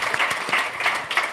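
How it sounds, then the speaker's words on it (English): Conference audience applauding a panel, dense clapping from a crowd in a hall, close and lively with individual claps standing out, lasting only a moment. "How about a round of applause for our fantastic panel"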